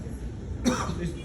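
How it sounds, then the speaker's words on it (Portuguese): A single brief cough or throat clearing from a man preaching in a church, close and short, rising out of low background noise. "Me desculpe que eu estou com uma tosse aqui"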